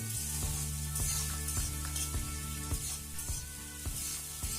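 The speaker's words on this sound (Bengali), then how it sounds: "আদা রসুন বাটা পেঁয়াজ আর আদা রসুনটাকে হালকা ভাজা ভাজা করে নিয়ে দিয়ে দিতে হবে টমেটো কুচি" Ginger garlic paste and onion fry in a pan for pea ghugni, a steady close sizzle with repeated soft scraping strokes of stirring throughout.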